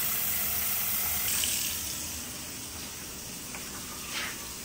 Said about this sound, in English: Pour our second amount of hot water.